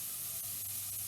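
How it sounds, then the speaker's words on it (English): Mirepoix for vegan Manhattan clam chowder sweats over low heat in a pot, giving a steady, close, hissing sizzle with no other sounds. "My mirepoix sizzling."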